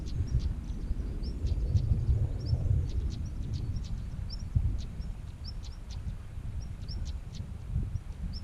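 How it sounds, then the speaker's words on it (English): A little brown bird repeats short, high, evenly spaced chirps beside a rushing brook, the calls faint and distant over the steady low roar of flowing water. "What a weird sound he makes."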